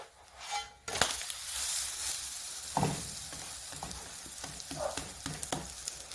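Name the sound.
potato and egg breakfast frying in oil, flipped in pan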